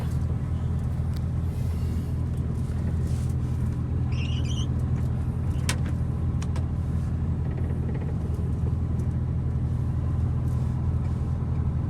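A truck pulls away after a wash on a long-haul run from Saint Petersburg to Krasnoyarsk, its engine a steady, close, low rumble throughout with no talk.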